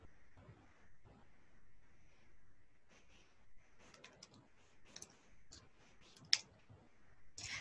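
Computer mouse clicks on a downloaded installer file, a few quiet sharp clicks and ticks scattered over several seconds against a low background hum, with no talking.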